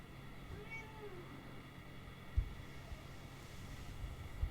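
A cat meows faintly in the background, some short cries partly buried under a steady low hum and room noise, with a couple of soft low thumps.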